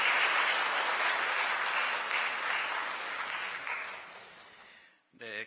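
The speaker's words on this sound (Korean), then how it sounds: "축하의 박수 부탁드립니다." Congregation in a Korean church Sunday service applauding a couple about to marry, steady sustained clapping that fills the room and fades out over several seconds before a voice resumes.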